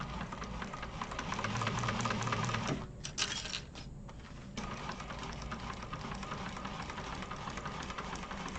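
A sewing machine stitching the seam of a Mr Heckles bag with drop-in lining: a steady run of rapid stitching that pauses briefly near the middle, then resumes at a lower, even hum.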